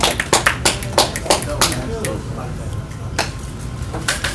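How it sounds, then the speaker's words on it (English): Audience clapping at a teen open mic poetry night, a handful of sharp, fairly close claps in an uneven rhythm at the start, then a quieter stretch with voices, and a few more claps near the end. "Clap it up for him one more time"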